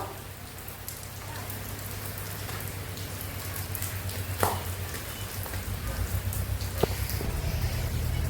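Rain patters steadily on surfaces in a village, with a low hum underneath and a couple of sharp knocks, building slightly louder toward the end.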